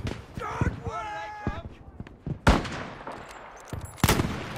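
Several sharp sniper rifle shots ring out in the Battlefield V video game, loud and spaced irregularly, with excited talk between them.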